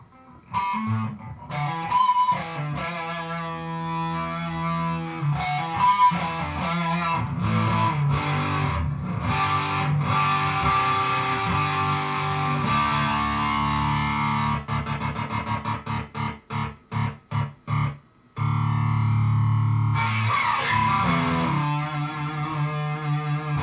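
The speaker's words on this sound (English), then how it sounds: "that's the Dodd Hard Rock Distortion FX57" Electric guitar played through a DOD Hard Rock Distortion FX57 pedal in a tone test, with loud, buzzy distorted chords and riffs, quick stabbing staccato strums near the end, then sustained ringing notes, all up close and without talk.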